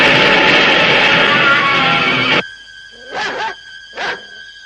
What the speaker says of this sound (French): Lindsay, fais sortir le chien de la cuisine à fond la caisse.